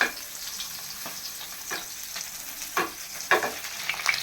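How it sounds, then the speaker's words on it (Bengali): Hilsa fish fries slowly in mustard oil in a large frying pan, a soft steady sizzle punctuated by repeated spitting crackles and pops. "তো আস্তে আস্তে আমার মাছটা ভাজা হোক"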